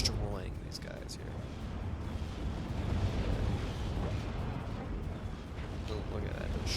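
Artillery barrages pounding a battlefield in the war game Steel Division 2, heard as a continuous low rumbling roar of distant explosions with a few sharper bursts and whistles at the start and end, under faint voices.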